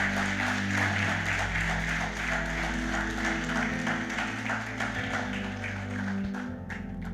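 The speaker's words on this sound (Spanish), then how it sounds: "Y podemos darle un fuerte aplauso a nuestro Rey Señor Jesucristo." A church congregation claps steadily in a dense, rhythmic wash over sustained low musical tones, tapering off near the end of the stretch.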